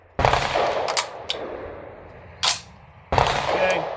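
A VR-80 semi-automatic shotgun loaded with 7.5 shot fires three loud, close blasts. Each report has a long, ringing decay, and the last two come in quick succession.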